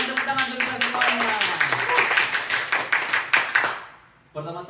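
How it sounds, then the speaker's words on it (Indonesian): An audience at an indoor gathering claps hands in a brief round of steady, close clapping while a voice keeps talking over it, then the clapping fades out. "Berikan tepuk tangan untuk kita semuanya."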